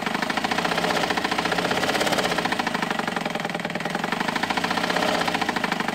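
An old hand-cranked dress sewing machine, under repair at the needle bar and newly fitted with a motor, runs continuously with a fast, even mechanical rattle and hum at a steady speed.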